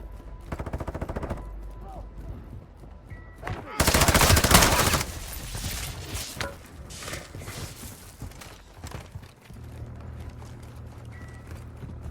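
Gunfire in Call of Duty DMZ around Building 21, bursts of rapid shots with one loud, dense volley in the middle, a voice talking between them.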